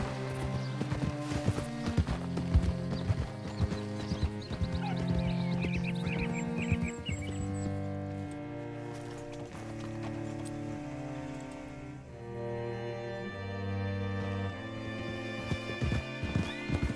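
Horse hooves clip-clop in an uneven rhythm in Red Dead Redemption 2, mixed with a whinny and tonal background music.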